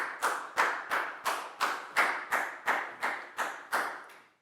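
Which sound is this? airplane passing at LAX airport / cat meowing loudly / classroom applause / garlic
classroom applause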